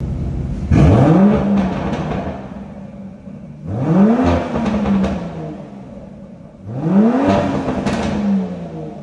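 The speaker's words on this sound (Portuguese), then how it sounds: "É impressionante como a Aston Martin ainda consegue entregar esse ronco num carro original" A 2022 Aston Martin DBS engine revs hard in sport mode, three separate loud blips with the pitch sweeping up and easing back down, close by, with an idling rumble between each rev.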